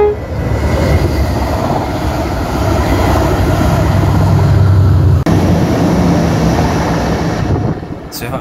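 A real train rolls past at close range, a loud, sustained rumble of wheels and cars that holds steady for about eight seconds before easing slightly at the end, with no talk.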